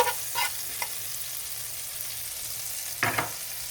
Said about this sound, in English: Gonna throw a little butter on here.